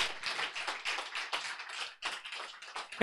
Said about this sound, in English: why don't you give the Lord a good old clap offering?